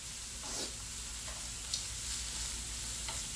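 Onions frying over medium-high heat in a pan for vegan beef patties give a steady, close sizzle, with faint stirring scrapes breaking through now and then.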